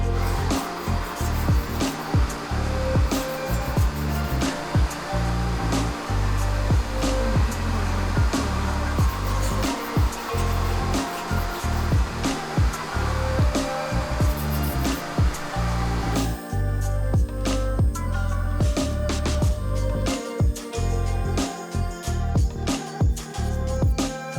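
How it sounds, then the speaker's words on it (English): Compressed air blasting through the holes of a 5.9 Cummins engine block in a workshop, a loud, steady hissing roar with short pulsing bursts and brief dips, shifting to a rougher, thinner blast near the end. "Blow all the holes out."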